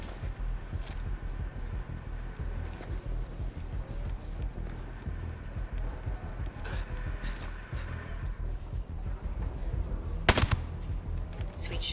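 Gunfire in the video game Ghost Recon Breakpoint: faint rapid clattering shots under game ambience and distant chatter, with one sharp louder burst near the end.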